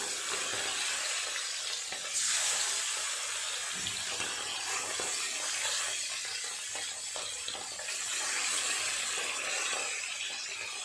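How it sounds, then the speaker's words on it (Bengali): Bata fish fry in a pan after being flipped to cook the second side, giving a continuous hissing sizzle with small crackles. It stays steady and fairly close throughout, and no one speaks. "মাছগুলো উল্টে অপর পিঠটা ভালো করে ভেজে নেব।"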